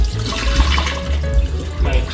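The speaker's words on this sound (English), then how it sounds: "so I'm gonna throw the water off now" Rinse water is thrown out of a container, splashing and gushing in a quick, noisy pour, with a low rumble and sloshing throughout, close and fairly loud.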